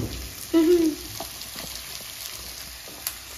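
Carrots, capsicum and beans fry in a pan for chowmein with a soft, steady sizzle close at hand, broken early by a short tonal squeak and later by a faint knock.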